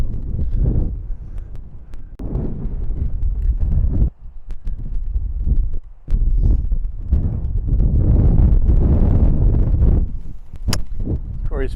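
Strong wind buffets the microphone on the Sheep Ranch golf course, a loud, continuous low roar with gusty surges and brief lulls that runs through the whole stretch.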